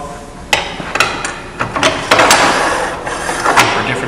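Miter gauge sliding into a table saw slot, with a series of sharp knocks and scraping clicks of metal on the cast table, close and fairly loud, no talking.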